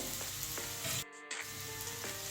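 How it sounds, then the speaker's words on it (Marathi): Onion fries in a pan with a steady, moderately quiet sizzle and a few soft stirring scrapes, briefly dropping out for a moment before the sizzle resumes, with nobody speaking. "आता थोडासा कांदा फ्राय झालेला आहे"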